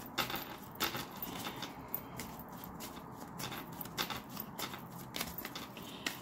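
Tarot cards shuffled and handled during a reading, giving a soft continuous riffling with brief flicks and taps, close and fairly quiet with no talk.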